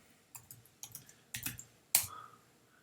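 Several separate clicks from a computer keyboard as a short search term is typed, close and crisp, with short gaps between keystrokes and no talking.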